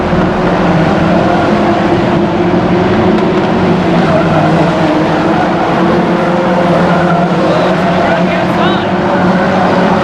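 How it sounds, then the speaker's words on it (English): Race car at an oval raceway short-track event, engines droning steadily and loud throughout while the car recovers from a spin, with a commentator talking over the noise. "Having taken the spin, gets himself going back the right way again."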